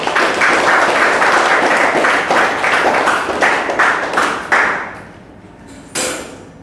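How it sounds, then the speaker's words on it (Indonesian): Students applaud in a physics classroom, a loud, close round of clapping lasting about four seconds before dying away, followed by a single sharp knock or thud near the end. "Kita berikan tepuk tangan untuk kalian semua."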